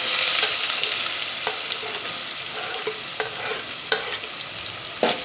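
Onion frying in hot oil with cumin and whole spices for a peas and potato curry, a continuous bright sizzle broken by occasional clacks of a spoon stirring the pan, with no voices.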